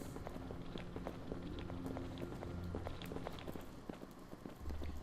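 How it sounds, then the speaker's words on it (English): Footsteps in the Resident Evil Zero video game: quiet, rapid scuffing steps patter steadily over a low hum of game ambience, with no talk. "Maybe it's Rebecca and Billy making footstep sounds."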